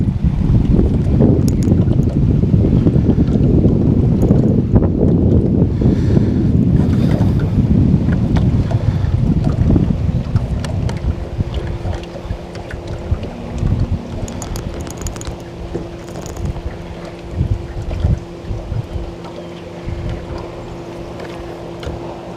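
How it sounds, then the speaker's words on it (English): A boat's trolling motor hums steadily beneath strong wind buffeting the microphone, the gusts easing after several seconds to leave a low, even drone with faint water sounds. "using the trolling motor to slow the boat down and get the proper bounce."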